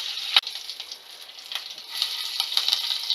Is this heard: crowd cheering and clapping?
no